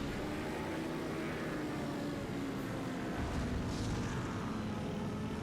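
Enemy aircraft drone steadily overhead in the video game 007 Nightfire, a continuous loud engine roar with no break and no talking.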